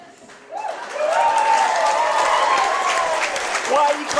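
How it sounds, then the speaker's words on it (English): A crowd at a Futureshock Wrestling title match between Sam Bailey and Chris Ridgeway claps steadily, a dense sustained patter of applause with voices and crowd noise mixed in. "Why are you clapping Sam Bailey?"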